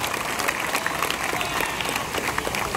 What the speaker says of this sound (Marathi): जोरदार टाळ्या वाजवून त्यांचं या ठिकाणी स्वागत केलं.